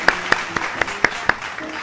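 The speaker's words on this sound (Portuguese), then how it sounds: "Palmas para o Tono Sereno. Palmas para quebrar o gelo." A few sparse claps, about six evenly spaced hand claps from a small group, close and fairly loud with nothing else over them.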